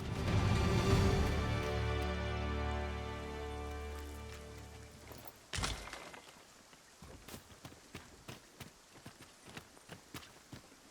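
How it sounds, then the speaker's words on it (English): A heavy downpour in a video game gives a steady hiss with scattered droplet patters. It starts under a loud sustained tonal swell, then carries on alone with irregular clicking hits. "Must we do battle amidst this dreadful downpour?"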